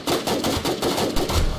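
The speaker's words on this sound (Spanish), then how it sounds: "Le di un montón de tiros." Rapid gunfire from the video game Infestation, sniper shots and battles, comes as a loud, close string of repeated shots in quick rhythm with no pause.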